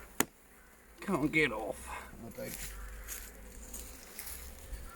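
Honey bees working around their hives outdoors, a steady close buzzing with a louder swell of droning early on, and a voice speaking briefly over it.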